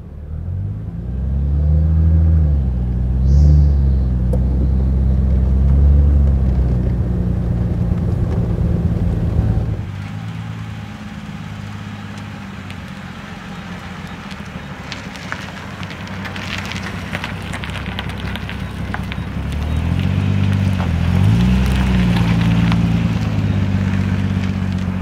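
A 1937 Maybach SW 38 Cabriolet heard from the back seat, its engine giving a steady low rumble that rises and falls with acceleration, dips to a quieter cruise midway, then builds again as the car pulls away.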